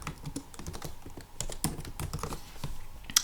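Rapid computer keyboard typing in bursts of close, crisp key clicks, a project name being entered for a Cricut print-then-cut vinyl design, with no one talking.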